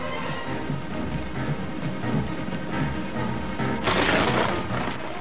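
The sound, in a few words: rain falling on car windscreen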